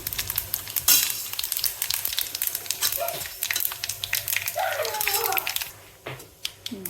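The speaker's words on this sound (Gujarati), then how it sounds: "ફ્રાય જીરું" Cumin seeds sizzle and crackle in hot oil in a home kitchen while courgette curry is being tempered, a dense, close frying hiss with sharp pops and a stirring scrape, as someone speaks over it.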